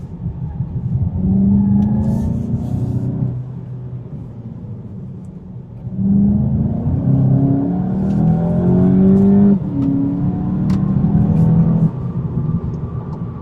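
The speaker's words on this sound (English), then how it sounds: "we get some nice blipping when we hit the downshift button under hard braking" A 2019 VW Golf GTI DSG engine rumbles and revs in a series of quick rev-matching blips on downshifts under hard braking, pitch jumping sharply with each burst. Close and loud, no talking.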